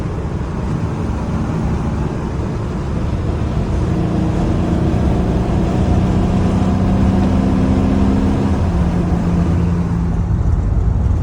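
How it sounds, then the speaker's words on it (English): A 1990 Ford F-150 with a swapped-in 460 engine cruises in second gear, a loud, steady engine drone with a low rumble that rises slightly in pitch and holds, heard from inside the cab without talk. "Just out cruising around in second gear, burning gas and adjusting the tune."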